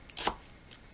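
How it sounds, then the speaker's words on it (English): A knife chops bitter melon on a cutting board in a home kitchen, one firm thud with a sharp click, then a lighter tap and a final quick knock, close and clear with no talk. "You chop them up."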